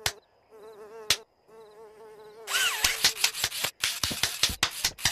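Cartoon mosquitoes whine and buzz in a thin, wavering drone, broken by a few sharp slaps and cut off by bursts of clattering noise toward the end.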